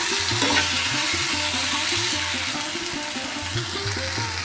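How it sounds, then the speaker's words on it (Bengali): Hot water pours into a cooking pan of prawn, potato and pointed gourd curry that has been frying in spices, making a continuous close rushing splash with sizzling underneath that holds steady for several seconds. "এখন আমি গরম জল দিয়ে দিচ্ছি"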